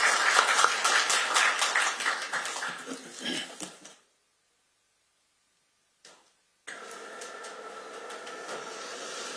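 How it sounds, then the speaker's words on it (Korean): An audience at a political party committee launch ceremony applauds, with dense clapping for about four seconds that tapers off, a stretch of silence, then the room's ambience returning. "박수로 맞이해주십시오."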